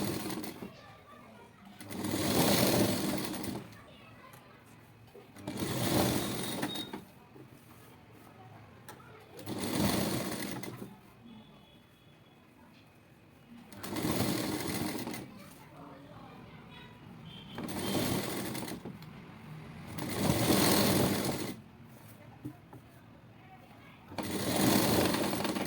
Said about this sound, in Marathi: मग पट्टीच्या मध्यावरच आपण अशी मोठी टिप मारून घेणार आहोत